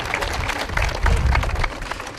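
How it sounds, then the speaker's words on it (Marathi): An audience at a college quiz event applauds a correct answer with a brief burst of dense hand clapping from a crowd, swelling midway and then tapering off. "जोरदार टाळ्या यांच्यासाठी"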